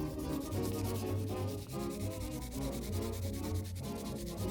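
Sand cloth made for metal rubbed steadily over a metal surface while refinishing a mid-century modern dresser: a loud, continuous rasping scrub with a faint back-and-forth rhythm, heard alone with no talk.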